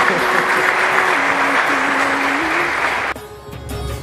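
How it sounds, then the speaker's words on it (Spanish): Applause for the newlywed bride and groom at a wedding, a steady wash of clapping that runs under a sustained sung melody for about three seconds before thinning out. "Un aplauso a los esposos."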